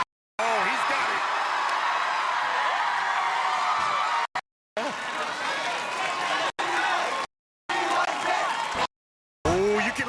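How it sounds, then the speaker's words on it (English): A crowd at American Ninja Warrior Oklahoma City qualifying roars in a continuous wash of cheering, with voices talking over it and a few abrupt silent gaps. "Oh, you can listen to the crowd."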